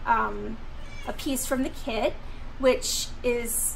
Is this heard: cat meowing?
yes